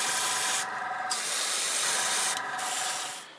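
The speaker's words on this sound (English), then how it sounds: "I'm going to spray the top of all of these with a light dusting, just from the centre, sort of down and out." An airbrush hisses a steady fine spray of paint across miniature crystals, continuous and close, with brief dips as the trigger eases off and back on.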